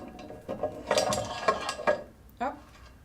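A metal serrated support is set onto a modular clamping fixture, making a cluster of close, clattering metallic clinks and scrapes. A final separate clack follows after a short pause, with no talk.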